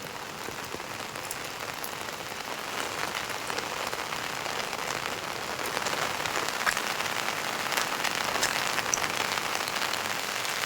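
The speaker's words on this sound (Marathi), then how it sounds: "प्रसिद्ध ओझरडे धबधबा ओसंडून वाहतोय" Ozarde waterfall in Satara's Patan area overflowing during monsoon rain, a dense, even roar of rushing water and rain that swells slightly toward the end, with no voices.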